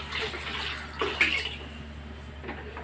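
A short, quiet splash of water poured into a cooking pot, with a soft gurgle that swells briefly and then fades.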